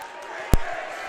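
A crowd at a boys' high school basketball playoff quarterfinal makes a dense, loud roar during a timeout, with one sharp slam-like thud partway through and a commentator's voice talking over the noise.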